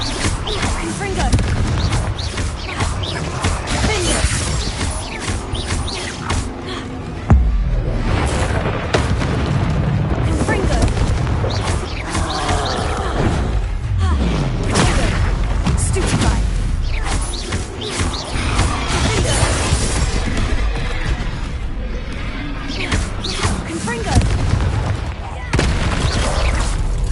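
Blasting-spell explosions in the video game Hogwarts Legacy, dense booming blasts one after another throughout, loud and close, layered over busy combat effects with voices calling out.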